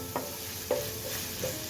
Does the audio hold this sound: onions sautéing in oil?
yes